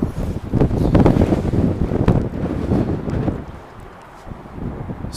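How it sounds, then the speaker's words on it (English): Strong wind gusting outdoors in Reykjavik, Iceland, with light rain, roaring and buffeting a nearby microphone loudly for most of the clip before easing briefly and picking up again. "so it's pretty windy, a little bit of rain"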